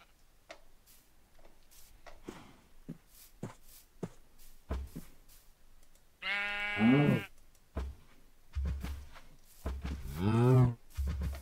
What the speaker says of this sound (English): Okay, cows. Come here.